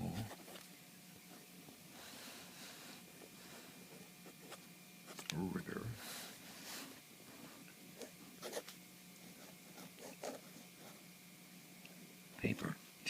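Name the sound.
fountain pen with vintage flex nib writing on Tomoe River paper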